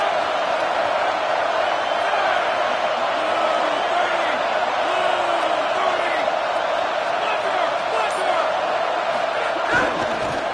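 Football stadium crowd noise during a game as the home fans try to rattle the opposing offense, a steady loud roar of voices with scattered shouts and whoops, while a broadcaster talks over it.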